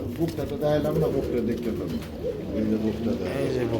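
Pigeons coo repeatedly at a pigeon farm, with layered, throaty calls overlapping close by while people talk over them.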